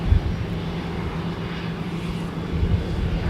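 A Delta airliner bound for Phoenix taxis on a taxiway at Minneapolis–St. Paul Airport, giving a steady, low engine rumble with a faint hum that holds evenly throughout, heard at a distance with no voices.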